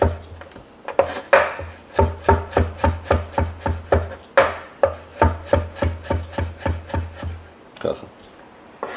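A knife chopping zucchini by hand on a board, about twenty crisp regular strokes in a steady rhythm, close and distinct, pausing briefly partway and fading out at the end.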